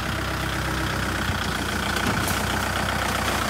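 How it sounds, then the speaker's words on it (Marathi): A tractor engine runs during fertilizer spreading in a farm field, a steady, loud, droning rumble with no change in pace and no voices. "आता ट्रॅक्टर पलटवून आणत आहे त्या साईडवरून"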